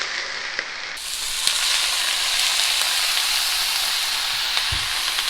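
Broccoli stir-fries in a hot pan, a loud, steady sizzling hiss that swells after the first second and continues with a few faint knocks and no voices.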